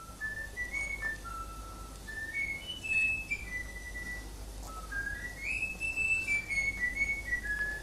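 A bird whistles a clear melodic tune, rising and falling phrases repeated twice, fairly faint against quiet background noise.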